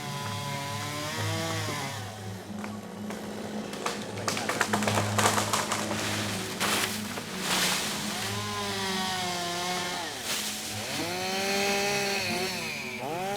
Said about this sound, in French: Il faut une journée pour couper un seul arbre à la tronçonneuse.